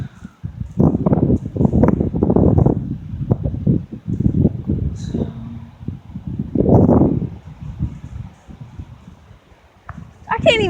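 Strong gusts of wind roar across an open outdoor spot, swelling and easing in long waves, with a brief voice partway through and buffeting on the microphone.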